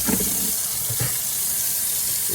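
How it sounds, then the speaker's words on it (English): Water running steadily from a tap while a shoe is washed, a constant close hiss with faint splashing and no speech. "the first thing you want to do is wash the shoe"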